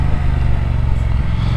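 Triumph Speed Twin 1200 motorcycle decelerating on engine braking, a steady low throbbing twin-cylinder drone with faint pulsing that holds near and loud for its whole short length.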